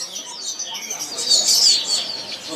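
Caged songbirds, including a prinia (perenjak), chirp and tweet at a busy bird market in East Java; a quick run of high, bright calls rises and falls across the moment, moderately close and with no talk over it.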